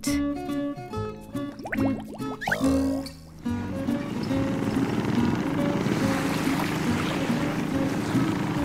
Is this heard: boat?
yes